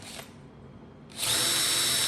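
Power drill boring holes into wood-backed art, a short quiet lead-in then a loud, sustained high whine from the bit, no voices.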